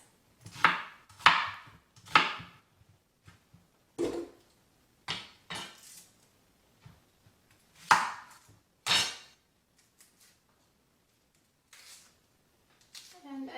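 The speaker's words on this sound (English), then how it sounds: "I recognize there are plenty of personal opinions on how to peel an onion." An onion being peeled with a knife on a kitchen board gives a series of close, crisp cuts and scraping strokes in uneven bursts, clustered early and then spaced out, with pauses between them.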